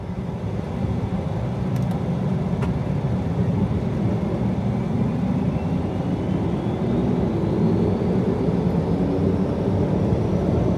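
On-board engine noise from a V10 car, a dense steady roar running throughout at close range, with no talk over it.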